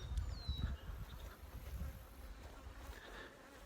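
Honeybees buzz steadily around a hive in a drought, loud and close at first with a wasp-like drone, then easing slightly but continuing as a busy swarm hum with no talking.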